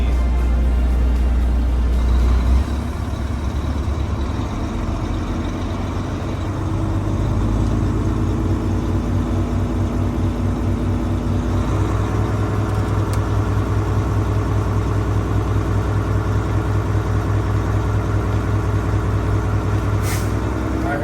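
A truck's engine in a CDL Class A pre-trip inspection holds at a raised 1200 RPM, a loud steady diesel drone heard from the cab, with a short air hiss near the end.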